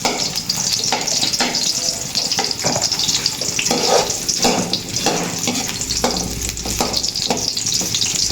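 Garlic and onion frying in a pan for chami, a steady loud sizzle with stirring scrapes throughout, no talk.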